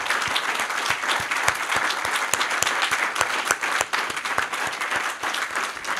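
A closing-speech audience gives sustained applause to the event's organizing team, a dense crowd of distinct hand claps ringing out steadily and fairly close, with no talking.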